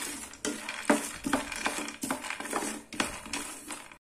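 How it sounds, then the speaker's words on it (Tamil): Half a cup of peanuts roasting in a teaspoon of oil in a pan over medium flame, heard as close rattling, scraping stirs and light clatter against the pan in uneven bursts, with no talking. "அதுல நான் ஒரு டீஸ்பூன் அளவுக்கு எண்ணெய் ஊத்துறேன். இதுல நான் அரை கப் அளவுக்கு வேர்க்கடலை வச்சிருக்கேன், அதை போட்டுறேன்."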